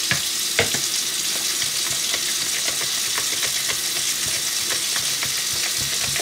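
Food sizzles steadily in a frying pan while being stirred, a dense continuous crackle with scraping taps from the utensil throughout, no voices.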